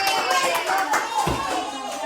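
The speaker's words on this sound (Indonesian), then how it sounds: "tepuk tangan buat Fatin" A classroom of children claps for a classmate after a math answer, a burst of brisk clapping with some voices mixed in, close and fairly loud.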